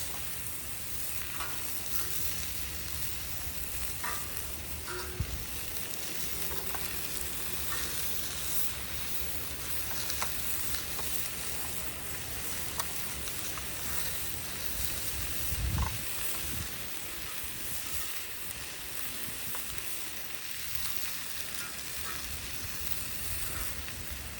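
Bacon fries on a flat-top griddle with a dense, even crackling sizzle that never lets up, close and steady, while occasional scrapes and light metal taps of a spatula break through, no voices.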